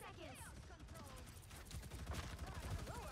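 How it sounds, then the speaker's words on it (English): Continuous rapid turret fire from Punisher in Marvel Rivals, a steady rattling stream under busy battle noise and voices, growing slightly louder toward the end. "Punisher is right there on his turret"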